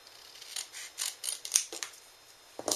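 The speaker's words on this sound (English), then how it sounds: "And all you're going to do is just cut" Scissors snip through a handmade birthday card in a quiet room, a series of soft, close, crisp cuts in an uneven rhythm, ending with a slightly louder final snip.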